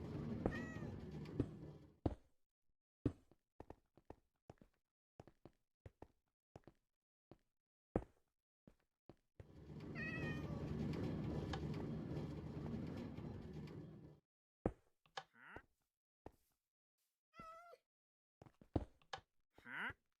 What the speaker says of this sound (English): Well, sorry, cat, but now you're trapped in there.